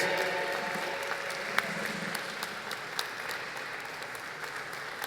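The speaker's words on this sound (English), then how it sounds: "We can cheer him on as he does that." An audience applauding at the inauguration of the Nelson Mandela Cruise Terminal: sustained, fairly distant clapping from a crowd, steady for the whole stretch with a few sharper individual claps.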